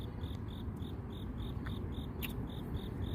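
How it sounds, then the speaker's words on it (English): A single cricket chirps in a steady, evenly spaced rhythm of short high pulses over a soft, constant background hiss, fairly faint and with no voices. "Let's find that cricket."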